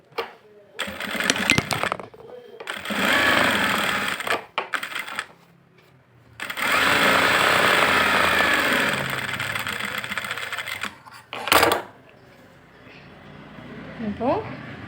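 A sewing machine stitches a blouse fold in bursts, running in a long stretch, a shorter stretch and a few brief spurts, with quiet pauses between them and no talk.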